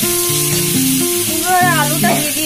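Pumpkin and potato pieces go into hot oil tempered with panch phoron, and a continuous close sizzle runs under a person talking.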